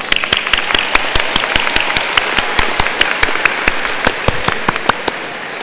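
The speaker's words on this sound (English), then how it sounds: "And yes, that deserves an applause." Audience applause for graduating seniors at the Justin F. Kimball High School 2013 graduation ceremony: sharp, distinct claps in a brisk rhythm, a few loud hands up close over a wider crowd.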